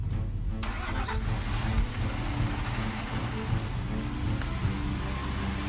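Heavy load-test trucks start and idle on a new bridge, a continuous low, rumbling drone of several diesel engines running together at a steady level, with no talk.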